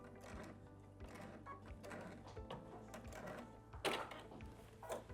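A sewing machine stitching a quilted coat and its lining runs in a quiet, close mechanical whir with rapid needle ticks and a couple of louder clacks near the end.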